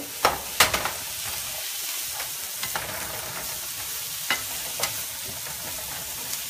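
Sausage browning in a pan for stuffed rigatoni, with a steady close sizzle and occasional sharp clicks from stirring, and no voices.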